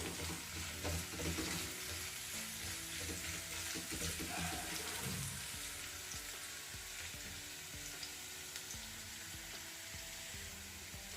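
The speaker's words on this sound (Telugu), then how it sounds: "అల్లం వెల్లుల్లి పచ్చి వాసన పోయే వరకు వేయించుకోవాలి" Ginger garlic paste sizzling and frying in a pan for an aloo cabbage curry, a steady close crackle with occasional stirring scrapes throughout.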